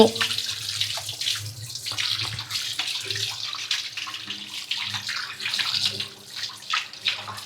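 Hands are washed under a running kitchen tap, with water splashing and gurgling steadily at close range as the hands move and rub beneath the stream, with no voices.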